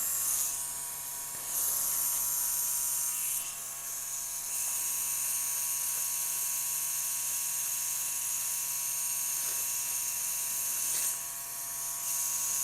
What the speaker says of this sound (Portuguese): Eu estou repassando a agulha onde os traços ficaram mais falhados.